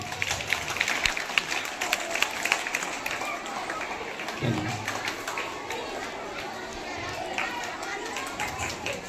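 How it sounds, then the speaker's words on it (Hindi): Applause and crowd chatter at a farewell ceremony held at a school, U.M.S. Kasaha in Barauni, Begusarai, with dense steady clapping mixed with voices and general hubbub throughout. "जोरदार तालियां।"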